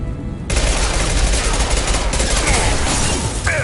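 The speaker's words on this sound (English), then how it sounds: "Firing an impact shot." Impact shot gunfire in Mass Effect 2 bursts in after a brief quiet start, then a dense, loud barrage of shots continues without pause to the end.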